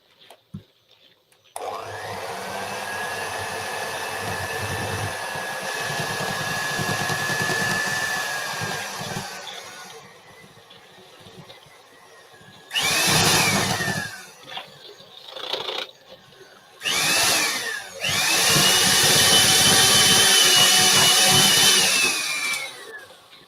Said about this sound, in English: I've got my mixer on very, very low